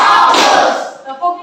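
A group of people clap together in a coaching session, a brief loud burst of unison hand claps that fades into a voice speaking.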